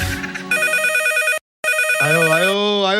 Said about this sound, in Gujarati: આયો ફોન આયો.